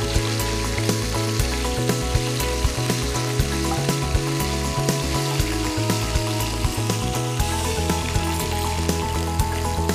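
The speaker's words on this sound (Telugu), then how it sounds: "ఇవన్నీ బాగా మిక్స్ చేసుకొని బాగా ఫ్రై చేసుకుందాం." Egg pepper fry ingredients with ginger paste sizzling steadily in a pan, a continuous close frying hiss with occasional soft clinks of stirring, no talk.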